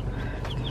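Young female chicks peep and cluck softly and continuously in a small brooder at close range, a steady chattering flock with no talking over it.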